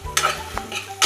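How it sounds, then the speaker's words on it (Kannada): Ginger garlic paste stirred in a hot pan, a spatula scraping in several quick strokes over a soft sizzle, close and fairly loud, no voices. "ಅದನ್ನು ಹಾಕಿ ಇನ್ನೊಂದು ಸ್ವಲ್ಪ ಹೊತ್ತು ಕರ ಕರ ಕರ ಕರ ಅಲ್ಲಾಡಿಸುವ"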